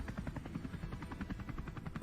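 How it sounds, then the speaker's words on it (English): Helicopter arriving in the Smart Factory Tycoon video game, a steady rhythmic rotor thump pulsing rapidly and evenly at moderate volume, with no talk over it. "Oh, there's our helicopter arriving."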